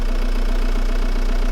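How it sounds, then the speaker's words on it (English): A 2009 Renault Megane Cabriolet III engine with a poor-performance fault (code DF308) idling, a steady low hum with a constant drone and faint rhythmic knock, close and even throughout. "So that's the engine started"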